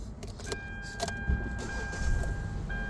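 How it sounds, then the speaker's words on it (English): A 2012 Kia Soul starting up close by: a few short clicks and whirs from the starter, then the engine catches and settles into a low, steady running rumble with faint electronic chimes. "Start the car."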